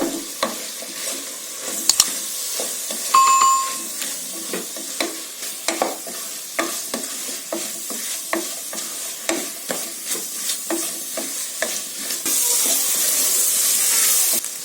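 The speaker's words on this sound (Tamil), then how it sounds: "இப்போ இந்த மசாலாலாம் காய் கூட சேர்த்து நல்லா வதக்கிக்கோங்க." Vegetables and biryani masala with chili powder sauté in a pan for a vegetable biryani, with steady sizzling and frequent stirring scrapes, close and alone.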